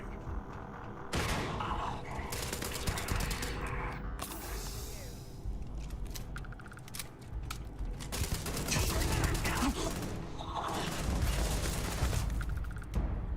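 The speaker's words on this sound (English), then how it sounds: "Who else is shooting at me, man?" Rapid gunfire bursts and a heavy fusillade from the Starfield video game in survival mode, sustained and dense throughout with brief lulls, and a voice faintly audible underneath.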